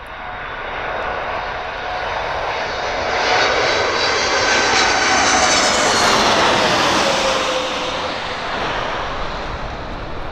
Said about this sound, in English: Oh, Flying Fortress